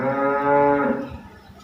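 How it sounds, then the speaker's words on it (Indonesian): A cow moos nearby in one long, low, resonant call that swells and then fades out over under two seconds, heard on its own without talk. "hiraukan suara sapi ya"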